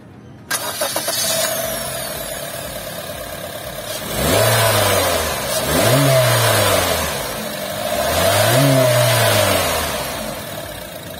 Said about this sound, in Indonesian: sekarang pun kita pengen denger suara mesin dari LSUV yang memiliki performa terbaik di kelasnya saat ini.